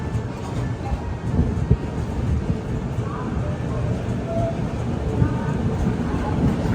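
A train pulling into Vijayawada Junction railway station rumbles loudly and continuously in a deep, broad roar with occasional clanks, steady throughout and close by, with no clear talk.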